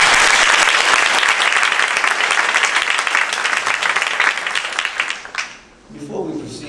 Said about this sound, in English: give her a great round of applause for our Mistress of Ceremony and Event Coordinator, Miss Katisha Adams.